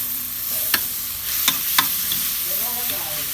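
Spicy beef stir-fried in a pan, a steady sizzle with a few sharp scrapes of the utensil against the pan.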